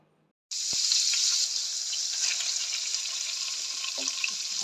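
Tempering for a sambar made with tender leaf shoots sizzles sharply in hot oil, a loud steady hiss starting abruptly after a short silence and continuing without talk.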